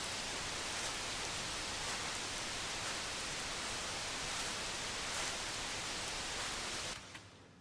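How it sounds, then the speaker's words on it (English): Synthesized noise-based rain layered with real recorded rain: a dense, steady hiss of downpour, loud and continuous, with faint drop patter, cutting off abruptly near the end. "the sound of noise with the real sound of rain as well"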